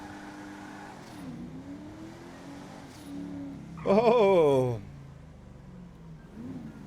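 A car in GTA 5 Online with its engine revving up hard in a brief loud surge, then dropping back to a low idle while someone talks and exclaims over it.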